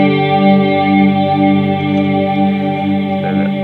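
An electric guitar swells into huge ambient chords through reverb and stacked delay pedals including a Boss DD5, a sustained, layered, shimmering tone with long decay and no voices.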